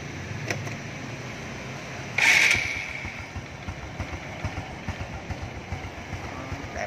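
A Honda Wave Thai 110 motorcycle, unwashed and muddy, with its engine started on a Saigon used-bike lot: a short burst as it fires, then a steady low, close idle putter with faint voices around.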